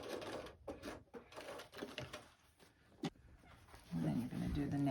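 Domestic sewing machine back-stitching at a box-pleat seam on a fabric lunch bag, quiet bursts of rapid mechanical stitching broken by short pauses, ending in a louder steady run.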